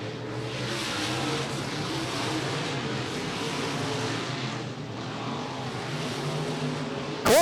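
Dirt late model race cars run hot laps at Tyler County Speedway, a distant roar of engines blending into a steady wash of track noise, with no break throughout.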